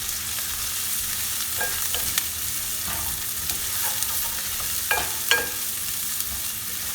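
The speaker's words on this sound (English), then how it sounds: "give good flavor to the meat. Saute this around a little bit." Minced meat and garlic sizzle steadily as they are sautéed in a pan for keema samosa filling, with a few scraping stirs of the utensil over a constant, close frying hiss.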